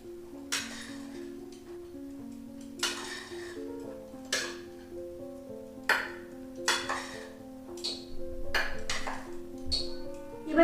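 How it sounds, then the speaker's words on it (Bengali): A utensil stirs cardamom powder into a coconut filling for Odia kakara pitha, tapping and scraping against a metal vessel in a string of clinks with ringing metallic tones between them. "পুরটার সাথে আমি অল্প একটুখানি এলাচের গুঁড়ো মিশিয়ে নিচ্ছি"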